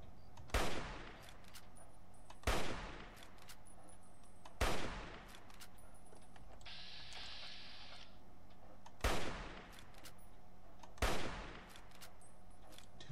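Gunfire in the video game Fallout 3: five separate loud, sharp shots spaced about two seconds apart, each with a short decaying tail, plus a brief electronic whine between them. No one speaks.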